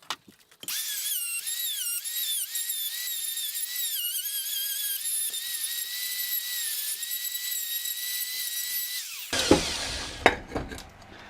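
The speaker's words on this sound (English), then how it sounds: "let's get the router out, and we will route these guys out." A router cuts into wood to form a battery mount for a teardrop camper, starting with a loud sustained high-pitched whine that rises and dips steadily as the bit bites in, then spins down near the end into a few clunks.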